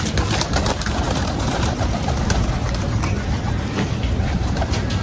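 Pigeons coo continuously in a garden aviary, close and loud, over a dense, noisy background that fills the whole stretch.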